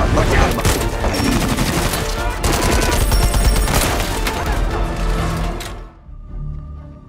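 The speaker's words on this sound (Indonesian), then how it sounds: "Di saat Jamal dan anak buahnya mulai maju, anak buah Owen lalu menembaki mereka." Dense, sustained gunfire as a group of men shoots at another group, a continuous loud fusillade of overlapping shots that cuts off abruptly near the end and leaves a low rumble.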